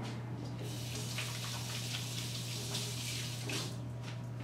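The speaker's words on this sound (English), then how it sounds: "let me rinse my hands" Hands are rinsed under a running kitchen tap while preparing roasted beets, a steady close water stream splashing continuously, with a low constant hum underneath and no talking.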